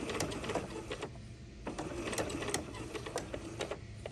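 Sewing machine back stitching along a lapped seam, a quick run of close, rapid mechanical needle clatter with short bursts and pauses, loud and near with no talking.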